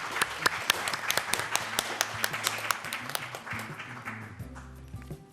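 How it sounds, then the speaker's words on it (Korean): Applause from a forum audience for the panelists at the close of the 2016 Kukinews health forum, a steady patter of claps with sharper nearby hits and some voices underneath, thinning toward the end. "토론자 여러분들에 대해서 한번 박수로"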